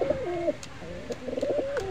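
Pigeon cooing close by, a series of low rolling coos repeating over a couple of seconds with brief pauses, no talking.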